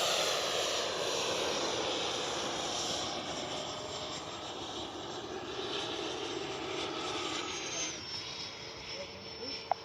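An FMS 80mm F-86 Skyblazers RC jet flies with a steady, loud broadband ducted-fan whine that holds at a constant level throughout, with a brief sharp click near the end.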